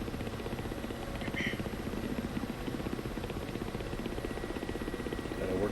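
A Ka-50 Black Shark helicopter in the flight simulator game DCS, a faint steady rotor thump and engine whine running continuously.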